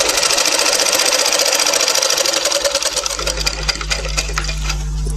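Sewing machine racing loudly through a sleeve seam, a fast steady whir with rapid needle ticking that slows and turns uneven toward the end, as a low motor hum comes up.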